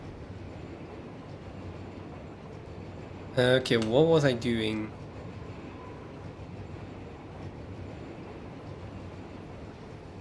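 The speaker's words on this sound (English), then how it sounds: "There's my train. It's over there somewhere." A train from the Satisfactory video game rolls past with a low steady rumble and hum throughout, while a person speaks briefly partway through.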